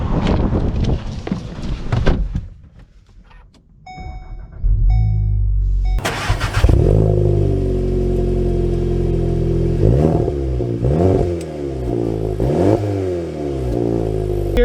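Volkswagen Golf R engine starting and pulling away, with a steady, close engine drone and repeated rising revs through gear changes.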